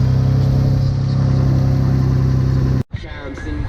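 A Mitsubishi 3000GT VR4 engine idles steadily and loudly nearby, then cuts off abruptly near the end, leaving a brief quiet before some background noise returns.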